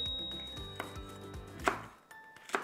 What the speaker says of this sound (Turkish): diğer iki biberi doğradığımız gibi şöyle ince uzun ince uzun doğruyorsunuz